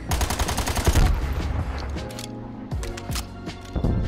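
Rapid bursts from an AMP63 auto pistol in a video game, a fast stream of close, loud shots for about two seconds, then scattered single and short-burst shots with game effects between.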